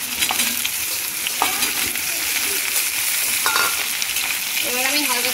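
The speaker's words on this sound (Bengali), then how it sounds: "এবার আমি ঝিঙাগুলো তেলে দিয়ে দিব।" Pieces of ridge gourd frying in hot oil in a pan, a steady close hiss and sizzle throughout with a few faint clinks of stirring.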